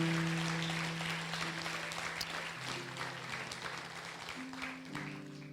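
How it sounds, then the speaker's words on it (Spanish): A church congregation applauding during a worship service, soft, fairly distant clapping from many hands spread over sustained organ or keyboard chords that shift pitch underneath. "Aplauda al Rey, por favor."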